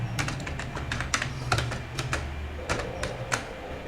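Rapid, uneven keystrokes on a computer keyboard while entering code, close and fairly quiet, with bursts of taps, short pauses and occasional heavier key presses.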